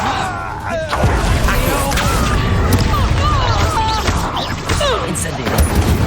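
Spell casting in Hogwarts Legacy, the fiery Incendio among them, makes bursting blasts, crackles and swooshing streaks amid combat clatter, loud and continuous, with voices in the fray.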